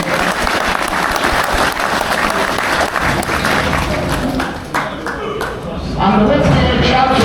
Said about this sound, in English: we have a round of applause for all the vendors who brought some cattle today